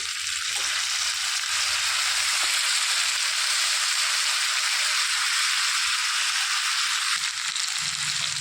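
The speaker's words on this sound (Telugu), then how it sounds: "ఇప్పుడు తరిగి పెట్టుకున్న వంకాయ ముక్కలు నీళ్ళల్లోంచి తీసి ఇందులో వేసుకోవాలి." Brinjal (eggplant) pieces, just taken out of water, fry in hot oil in a pan. A loud, steady, close sizzle fills the whole stretch, with a few faint stirring knocks and no voices.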